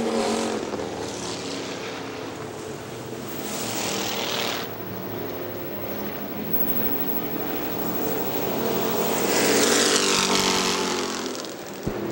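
Factory stock race cars roar around the Hartford Speedway Park oval in a 2001 race. Engines swell and fade as the pack passes, a steady mid-distance racing drone with no other clear sounds on top.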